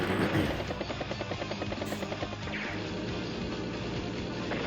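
A helicopter unit from Advance Wars: Days of Ruin gives a steady, rapid rotor chop with a buzzing engine drone, loud and continuous for several seconds.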